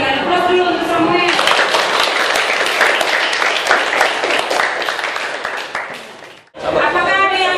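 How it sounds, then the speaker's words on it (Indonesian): A classroom of students gives a student a burst of clapping, a dense round of applause that swells and fades over several seconds, with a teacher's voice heard before and after it. "Berikan aplaus dulu untuk Samuel."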